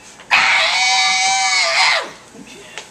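A voice imitating a rock song scream, a loud strained bleating shriek held for well under two seconds before cutting off, followed by quiet room sound.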